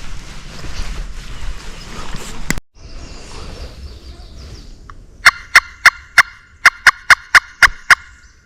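A wild turkey gobbler gobbles during a mid-morning turkey hunt in South Carolina, a loud rapid burst of sharp repeated pulses near the end, following a stretch of outdoor rustle and handling noise, with no talking.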